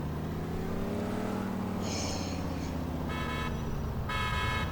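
Car horn blasts in a GTA IV police-mod city street scene, two separate honks near the end over a steady engine drone and traffic hum, a brief higher tone earlier; no talking.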